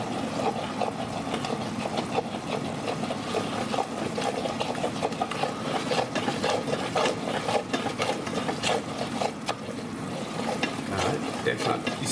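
A gumbo roux is stirred in a pot with a makeshift whisk, giving continuous close scraping and clattering strokes over a low bubbling hiss.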